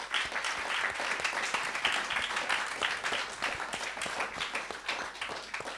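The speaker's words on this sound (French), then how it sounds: "Je pense qu'on peut déjà les applaudir," A crowd applauds at an evening discussion event, producing dense, sustained clapping at a steady level throughout, heard close and without talk.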